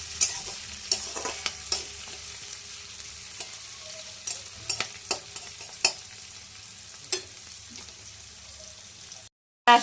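Onions fry in a pan with a steady, soft sizzle, broken by a series of sharp spatula scrapes and stirs at irregular intervals.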